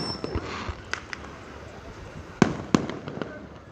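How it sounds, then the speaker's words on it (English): Fourth of July fireworks go off at a distance, sparse sharp booms and pops scattered through the clip, with two louder bangs standing out over a hazy background. "Oh, I think the real fireworks are starting,"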